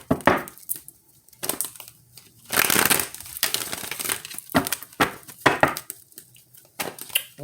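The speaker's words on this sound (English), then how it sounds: "My cards are also pre-shuffled, so I do shuffle the hell out of them" Tarot cards being shuffled hard, with bursts of riffling, slapping and crinkling card noise that come and go in irregular clusters close to the microphone, with no talk.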